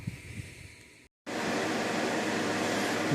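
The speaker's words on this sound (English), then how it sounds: "we've got the humidification running over there" A humidifier runs inside a meat curing and aging chamber with a steady broadband hiss and whoosh that cuts out briefly, then returns louder and constant.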